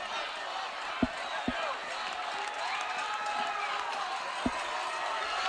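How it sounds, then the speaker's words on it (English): Crowd noise at a varsity high school baseball game between the Lewisburg Patriots and Hernando Tigers, spectators jeering the pitcher in a steady murmur of shouts with a few sharp knocks. "Crowd getting on to McBride."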